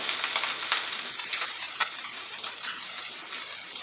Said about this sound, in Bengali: নারকেলটাকে অল্প সামান্য ফ্রাই করে নেব। মাঝারি আঁচে আমি ফ্রাই করছি।